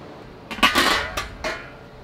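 A heavy cast iron pan clanks down onto a Weber kettle grill with a few quick knocks and scrapes, close and fairly loud, then settles.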